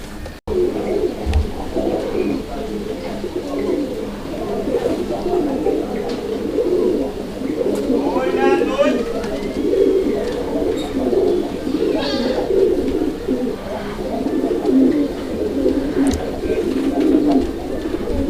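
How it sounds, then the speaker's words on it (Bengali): A pair of white Indian Mumbai pigeons at a pigeon farm call with steady low cooing, near and continuous over about eighteen seconds, with a few brief higher chirps and faint voices in the background. "দর্শক বন্ধুরা আপনারা ডাকটা দেখছেন অলরেডি আর কবুতরের জোড়াটা কিন্তু একদম পিওর"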